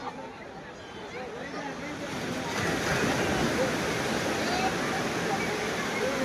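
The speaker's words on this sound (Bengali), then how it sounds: "অসাধারণ ঢেউ দেখতে পাচ্ছ বন্ধুগণ। আমরা সেই ঢেউয়ের অনুভূতি নিতে চলে এসেছি সমুদ্র সৈকতে।" Sea waves break and surge on Digha beach, a continuous broad roar of surf that swells louder partway through and stays steady, close by and with no clear voices over it.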